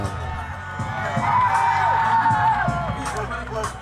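Fight-night crowd cheering and shouting as boxer Adrian Corona, 9-0-1 from Rialto, California, is introduced from the red corner at a Path To Glory boxing event; steady loud roar with whoops, swelling midway, with voices throughout.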